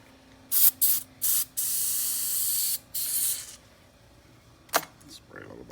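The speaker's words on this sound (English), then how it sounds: "I'll spray a little bit of" Several short hissing bursts of lubricant spray into an antique Hurd heavy-weight padlock, then one long continuous spray, followed by a sharp click and quieter handling noises, with no talking.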